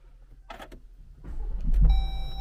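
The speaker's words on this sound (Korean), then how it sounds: "서밋 차량인데 시동 한번 걸어볼까요?" A Jeep Grand Cherokee L Summit engine cranks with a rising low rumble, then settles into a steady idle as a tonal electronic chime sounds near the end.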